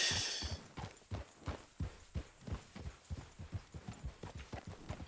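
Steady, evenly spaced hoofbeats from a thoroughbred dapple grey horse in the RedM game thud along at a brisk pace, close and clear, after a short hiss at the start.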